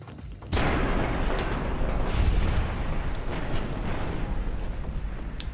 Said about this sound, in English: Plasma grenade.